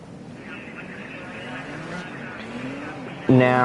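Race cars pulling away at the start of a six-car Lights Series test race at Olden Park, a steady engine drone rising in pitch before a sudden loud close-up engine roar at the end.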